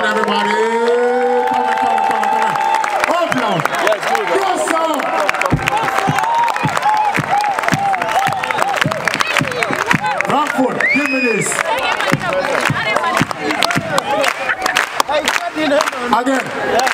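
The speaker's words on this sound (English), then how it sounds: "Give applause for the band." A festival crowd at an outdoor African music concert claps, cheers and whoops loudly for the band, dense and sustained, with shouted voices and an amplified announcer cutting through.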